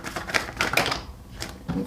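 Tarot cards spill from a deck during a reading, giving a few quick papery slaps and flutters in short bursts, close and fairly quiet, with a soft rustle at the end.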